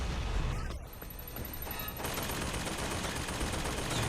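Rapid weapon fire in the video game Bioshock Infinite, a dense, loud burst of gunshots that runs continuously through the scene with a brief ringing tone near the start.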